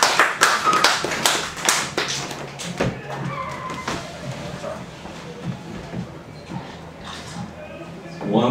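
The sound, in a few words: audience applause at open mic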